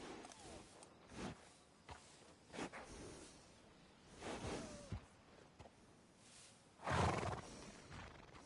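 A horse in the Red Dead Redemption 2 video game gives a few short whinnies and snorts, with one loud neigh near the end, over quiet ambient background.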